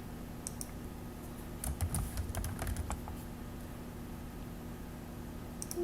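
Quick bursts of keystrokes on a computer keyboard as a password is typed into an Excel sheet, a cluster of close, light clicks in the middle, then quiet.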